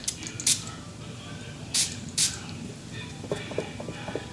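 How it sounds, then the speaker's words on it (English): Three short hissing sprays of perfume onto a card, one near the start and two close together a little later, with quiet rustling and faint clicks in between. "I'm gonna go ahead and spray it on this card"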